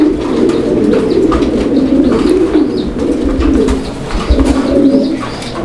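A breeding pair of large pigeons coo steadily and close by. Low, rolling calls overlap continuously with faint chirps and no talking.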